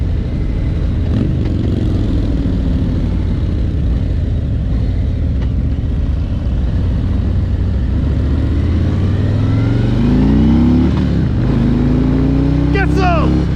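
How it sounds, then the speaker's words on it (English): A 2021 Harley-Davidson Road Glide Limited V-twin rumbling while riding, a loud continuous low engine drone with wind rush that swells as it accelerates toward the end, and a rider talking over it. "you feel the rumble and the vibration of the Harley V-twin"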